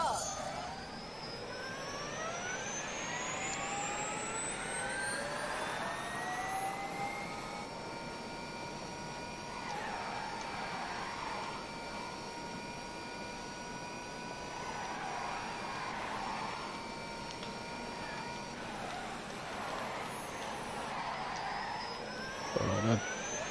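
An electric hypercar, the Neo, races around a track in The Grand Tour Game with a steady high whine that swells and dips through corners over a long stretch, near and continuous, with no talk over it.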